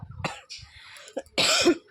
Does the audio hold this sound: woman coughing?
yes